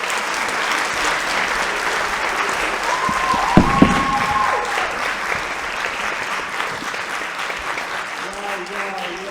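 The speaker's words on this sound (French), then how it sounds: "un tonnerre d'applaudissements pour mes mannequins, s'il vous plaît" A theatre audience gives sustained, loud applause for the models in a stage comedy, a dense steady wash of clapping throughout, with a voice speaking over it briefly near the middle and toward the end.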